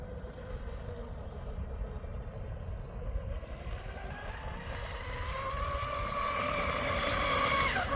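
A Proboat 29-inch RC catamaran with an ABC prop runs at full throttle, its high-pitched electric whine rising steadily in pitch and loudness across a broad rushing hiss of water, heard from some distance.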